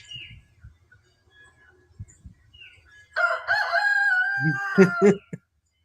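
Soft low clucks and scratching, then a loud nearby rooster crow rising and breaking into a few sharp final notes.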